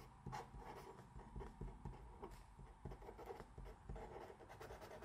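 New Propus Window marker with a plastic pen tip writing on paper, giving a soft, smooth rubbing scratch in quick repeated strokes, close up with no speech.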